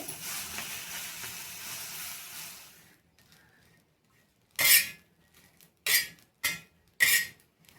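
Small bitter gourds sizzle steadily in hot oil, a soft crackling hiss that stops abruptly, followed by several sharp clattering bursts of stirring or utensil scraping in the pan.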